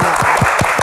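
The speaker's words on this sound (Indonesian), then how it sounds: "Tepuk tangan untuk Pak." Brief burst of loud studio audience applause on a televised Q&A talk show honoring a government minister, many hands clapping close and dense for under a second.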